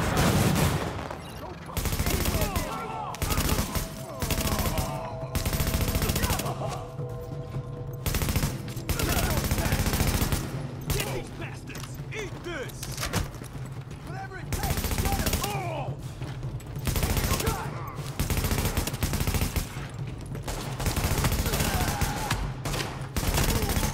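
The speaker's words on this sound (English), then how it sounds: "The escort party's taking heavy fire from the roof." Heavy automatic gunfire from a rooftop gunner in The Division video game, long rattling bursts of machine-gun fire broken by short pauses, loud and close throughout, with a voice briefly talking between the volleys.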